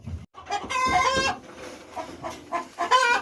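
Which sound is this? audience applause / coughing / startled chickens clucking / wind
startled chickens clucking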